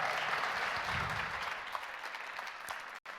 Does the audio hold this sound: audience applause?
yes